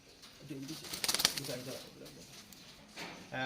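Rampuri and Rajasthani pigeons in a cage give soft, low cooing and brief wing flutters, with a burst of flapping near the middle, while someone talks over them.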